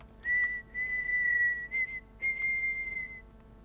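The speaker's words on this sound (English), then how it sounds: "Whistling." A game character in Prey whistles a steady tune, clear and close. It comes in two long held phrases separated by short breaks, with faint background hum and no talk.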